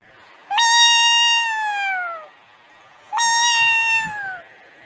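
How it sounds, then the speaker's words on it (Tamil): A cat gives two clear, drawn-out meows separated by a short pause, each starting sharply and sliding down in pitch as it fades, close and loud with no speech over them. "ஏதோ பூனை கத்துற சவுண்டு கேட்குது"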